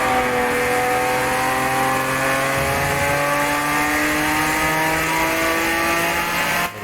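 A Porsche 911 with a naturally aspirated boxer engine in a racing video game, its engine note climbing steadily in pitch through sustained high revs, loud and alone, with a brief dip before rising again and a cut at the end.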